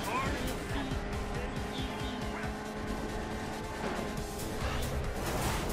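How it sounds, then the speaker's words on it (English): Kart engine drone and drifting in the racing game Sonic & All-Stars Racing Transformed on Starry Speedway, a steady buzzing motor with tire squeal, under game music and a person talking. "So we drift nice and easy."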